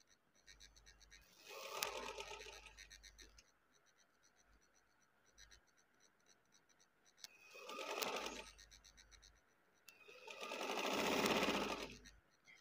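A sewing machine stitches along a folded neckline of a shirt in three separate bursts of close, rapid needle chatter, with quiet handling gaps between runs.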